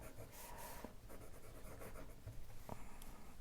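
A fountain pen with a double broad nib writes on paper, giving a soft, faint scratching and rubbing against steady background hiss, with a few light taps of the nib.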